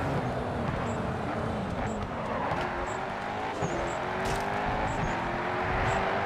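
Race cars in the GRID 2 racing video game drive past continuously, a loud sustained engine drone with shifting pitch and overlapping passes throughout.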